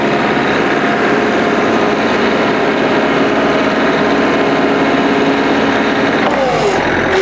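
A small Kubota or John Deere compact tractor engine drones loudly and continuously up close while mowing a field, its steady mechanical hum shifting slightly in pitch near the end.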